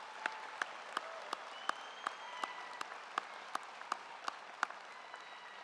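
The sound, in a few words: audience applause for school staff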